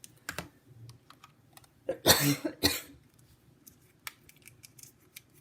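Two close, harsh coughs in quick succession, with faint clicks and rustling scattered before and after; no talking.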